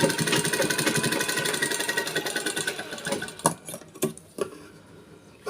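Sewing machine running a straight pressure stitch, a fast continuous mechanical rattle that slows and breaks into a few separate thumps near the end, close and loud.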